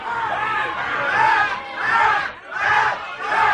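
A live radio-show crowd at a St. Patrick's Day contest roars in rising waves of shouts and cheers, loud and sustained, swelling and dipping several times with a babble of voices underneath.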